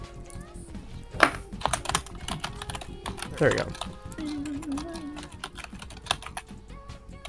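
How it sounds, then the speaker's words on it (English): Rapid clicking of a computer keyboard being typed on, steady and fairly close, runs under a voice chatting over an online party-game session. "Who the mess is typing?"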